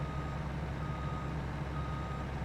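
A truck backs up to a shed door on a cattle farm in a farming simulator game, its reversing alarm beeping steadily over a constant low engine drone.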